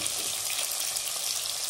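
Garlic and onion sautéing in a pan for a dried fish curry give off a steady, close, even sizzle and crackle throughout, with no voices.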